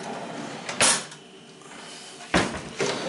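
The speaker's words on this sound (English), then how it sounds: "these are just cupboards under the sink" Kitchen cupboard doors under the sink bang open and shut in three short, sharp knocks, one early and two close together near the end, with a quiet room between.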